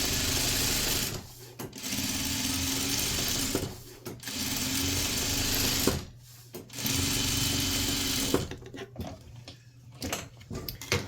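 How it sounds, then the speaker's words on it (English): Sewing machine stitching quilt blocks with interfacing along a quarter-inch seam, running in loud steady whirring bursts of a few seconds each, separated by short pauses and ending in a stop-and-start stretch. "we're going to sew a 1/4 inch seam allowance"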